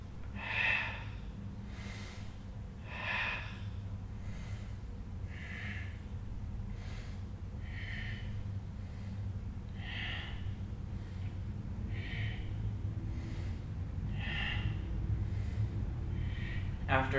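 Steady exhaled breaths during a guided mobility exercise, coming in a slow, regular rhythm of soft airy puffs roughly every two seconds over a low background hum.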